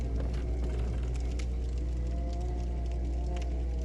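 Dense, muffled crowd noise from a horde of enemies packed inside a chapel in Bloodborne's Old Yharnam, a steady low rumble with scattered faint clatters, distant and continuous without talk.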